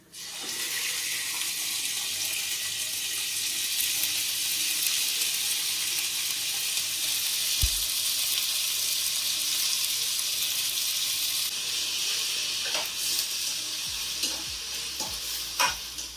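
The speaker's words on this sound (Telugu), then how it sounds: "ఇప్పుడు మనం మన క్యాప్సికమ్స్ వేసేసుకుందాము." Capsicums and onions frying in a pan for white sauce pasta, a steady loud sizzle running throughout, with occasional stirring clatter near the end and no talk.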